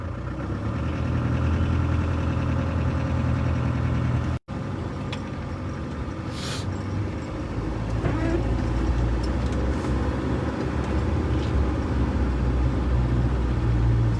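Steady, fairly quiet vehicle engine drone while driving through a farm, a continuous low hum with a short dropout partway through and faint background sounds.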